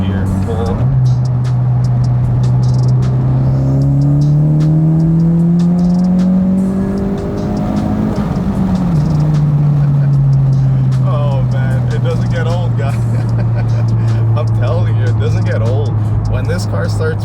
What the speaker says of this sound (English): Let's get a third gear pull.